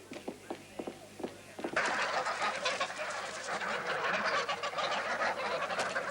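Geese honk in a loud, crowded flock near a castle drawbridge, starting with a few spaced calls and swelling into a dense, continuous clamour.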